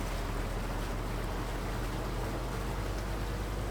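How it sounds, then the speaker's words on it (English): In Farming Simulator 19, running water like a brook makes a steady, even rush of noise that holds constant throughout with no other sounds. "sounds like running water, which was weird, like a brook or something"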